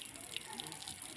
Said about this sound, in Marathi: आता हे नळ चालू करतोय.